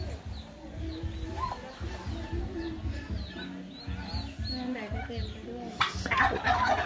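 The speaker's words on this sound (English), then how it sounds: "Lots of turkeys around." Turkeys gobble and cluck in a Tai Lue village in Laos, with a busy mix of bird calls over low murmuring voices and a rise of ambient noise near the end.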